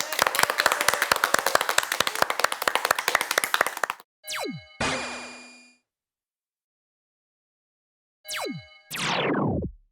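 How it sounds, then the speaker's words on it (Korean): Audience at a Korean youth history talk show clapping together, a dense, loud burst of many hands for about four seconds, then stopping abruptly as electronic jingle sounds follow. "다 함께 한번 박수로 한번 들어볼까요?"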